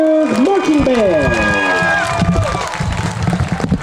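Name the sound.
audience applause for the marching band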